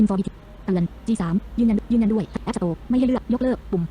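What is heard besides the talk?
No distinct noise like a dog, phone or traffic.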